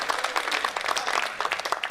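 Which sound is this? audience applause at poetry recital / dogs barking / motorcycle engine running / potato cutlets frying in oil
audience applause at poetry recital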